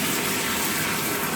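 Water rushing into a 1964 wall-hung toilet as its supply is turned on, a loud, steady, hissing gush that continues without a break.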